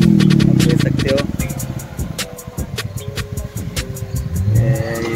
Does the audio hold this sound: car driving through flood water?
yes